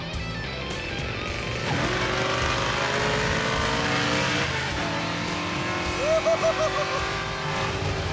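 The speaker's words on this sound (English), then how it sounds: "Oh, yeah, that car is loud. I can hear it over your car." A loud, aggressive-looking car accelerates on a road trip to a drag-racing event, its engine note rising and holding strong as it pulls, heard from inside another car with a brief change in tone near the end.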